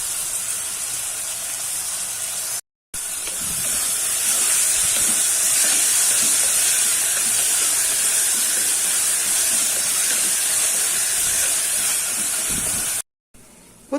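Coriander and mint leaves sizzle and steam in a pressure cooker for plain kuska biryani, a loud continuous hiss filling most of the stretch with two brief silent breaks.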